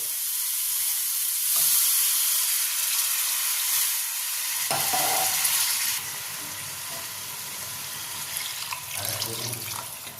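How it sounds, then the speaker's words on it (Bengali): Water pours into a simmering fish curry in a pan, a steady rushing splash over continuous sizzling that grows busier partway through, loud and close with no talking. "তাই এবার আমি জলটা দিয়ে দেবো"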